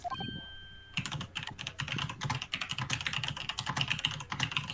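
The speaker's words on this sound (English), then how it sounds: "Stop with the typing!" Rapid typing on a computer keyboard during play of The Great Ace Attorney Chronicles, a dense clatter of keystrokes running steadily throughout, with a brief electronic tone at the start.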